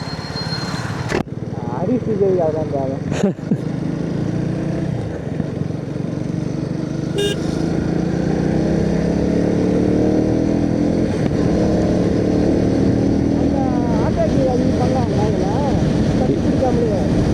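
A motorcycle cruising on a highway, heard as a steady loud engine drone mixed with heavy wind rush from a close point of view, and a rider talking now and then over it.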